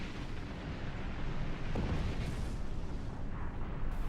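Romulan plasma weapons fire in Star Trek Online ship combat as rumbling, booming blasts over a dense background roar, with a few sharper bursts standing out. No voices are heard over it.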